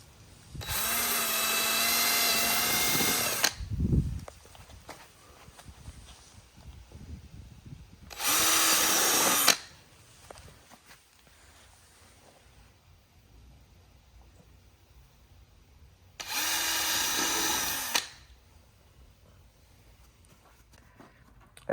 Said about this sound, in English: And then we're gonna drill on those